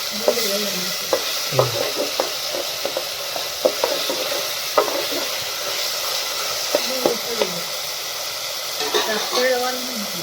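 Onions sizzle and fry in hot oil with green cowpea beans, a steady close hiss broken by repeated scrapes and knocks of a stirring spoon; faint speech murmurs underneath.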